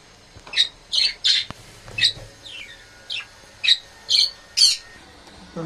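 Pet birds in a home cage setup give a run of about nine sharp, evenly spaced squawks, close and fairly loud over a quiet background.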